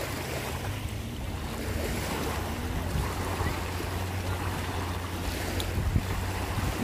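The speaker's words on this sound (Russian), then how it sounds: "теперь можно слушать шелест волн" Sea waves rustle and break on the shore at Magadan in summer: a steady, soft wash of surf with low wind rumble buffeting the microphone and no voices.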